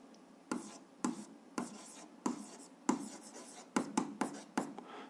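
Pen or marker scratching out an algebra exercise solution, a series of short, sharp strokes and taps in an irregular rhythm, close and fairly quiet with no talking.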